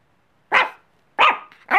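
A big dog barks three times close by, short sharp woofs spaced apart, the last two coming quicker, with no talking.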